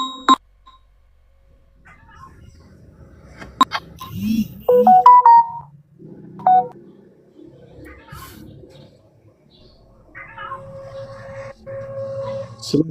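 A mobile phone rings during a live religious discussion, a short electronic melody of repeated tonal notes around the middle of the stretch, moderately loud over a quiet room with faint background murmur.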